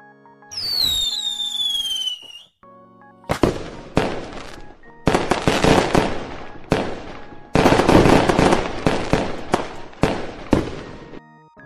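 Fireworks at a Japanese summer hanabi festival: after a whistling rise, a rapid string of sharp crackling bursts and pops follows in dense clusters, loud and fairly near, with no talking.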